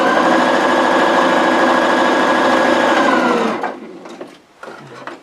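A sewing machine stitches close to the edge of a fabric zippered wristlet in one steady, fast run of about three and a half seconds, then stops, leaving faint handling noises.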